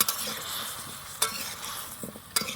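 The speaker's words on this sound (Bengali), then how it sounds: "লাউটাকে আমি মশলার মধ্যে কষিয়ে নিব।" Bottle gourd sautéing in a spice masala, a steady close sizzle with scraping stir strokes at a few points and no voices.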